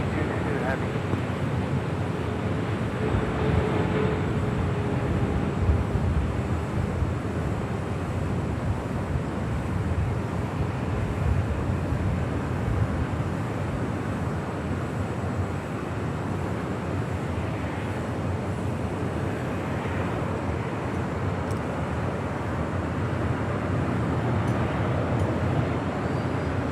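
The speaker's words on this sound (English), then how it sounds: "China Cargo Airlines Flight 222 heading to Shanghai. It's 777." Heavy China Cargo Airlines Boeing 777 freighter departing runway 25 left at Los Angeles International Airport, a steady broad jet roar holding loud and continuous throughout, with a voice talking over it.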